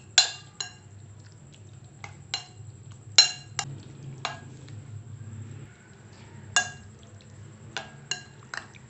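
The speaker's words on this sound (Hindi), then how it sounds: "अब हम इसमें चिकन डाल देंगे और इसको मिक्स कर लेंगे।" Chicken pieces tossed into a spice mix in a bowl for popcorn chicken, with sharp clinks of utensil against the bowl at irregular intervals over a low steady background hum.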